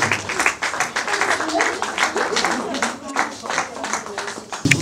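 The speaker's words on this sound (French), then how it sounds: "sous vos applaudissements" Applause from a film awards ceremony audience for an honoree at a Congolese cinema awards event, steady clapping blended with crowd noise and a voice over it.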